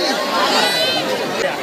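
Dense crowd chatter fills the grounds of Alipore Zoo in Kolkata, many overlapping voices murmuring steadily and fairly close, a continuous busy hum of visitors with no single voice standing out.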